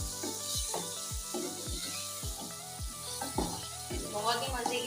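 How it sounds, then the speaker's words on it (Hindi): Besan masala frying in oil in a pan, a soft steady sizzle under repeated low thumping knocks roughly every half second, fairly quiet and close. "2 मिनट के लिए इसको ऑयल में फ्राई करेंगे"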